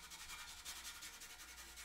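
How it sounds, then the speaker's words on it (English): Steady scrubbing with baking soda and water on the textured surface of an SVI 328 being cleaned up, a continuous close rubbing hiss with a slight rhythmic pulse, heard alone. "I'm going to use some baking soda and some water and scrub it all."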